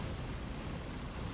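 A hammerhead target explodes in a space combat game, a brief, dense, rumbling blast that fills the moment at a faint level.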